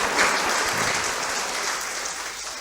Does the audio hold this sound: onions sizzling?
no